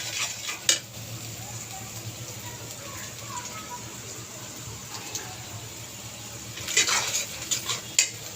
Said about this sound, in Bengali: পেঁয়াজটা নাড়াচাড়া করে হালকা বাদামি করে নেব